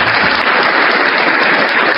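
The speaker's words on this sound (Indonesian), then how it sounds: "tepuk tangan buat Tuhan." Applause from a church congregation during a live evening sermon, a dense steady wash of clapping filling the whole stretch with no talk over it.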